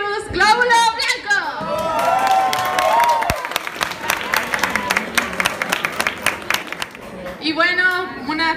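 A crowd at a Japanese anime and cosplay event applauds and cheers a costumed contestant, with a sustained wash of clapping and whoops. A voice talks over the start and again at the end.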